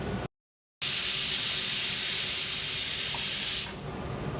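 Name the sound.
roasting dals and grated coconut in a pan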